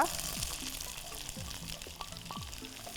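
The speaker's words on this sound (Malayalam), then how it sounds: "ആ കടുക് ഒന്ന് പൊട്ടിക്കഴിഞ്ഞാൽ ഇതിനകത്തോട്ട് ഞാൻ എൻ്റെ ചെറിയ ഉള്ളി ഇടുക" Small shallots drop into hot oil with popped mustard seeds in a pan, giving a faint continuous sizzle with a few soft sputters and pops over the short stretch.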